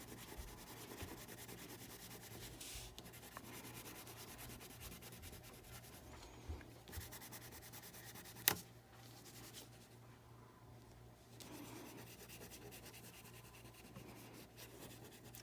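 Soft, close scratchy rubbing of a crayon, oil pastel or colored pencil on paper while coloring a sea turtle drawing, with quiet strokes in bursts and one sharp snap partway through.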